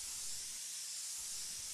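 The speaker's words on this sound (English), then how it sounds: "This is going to give me a high air to paint ratio and is considerably easier for spraying candies." A paint spray gun set to about 40 psi sprays AutoAir candy paint, giving a loud, steady hiss of high-pressure air that runs unbroken throughout.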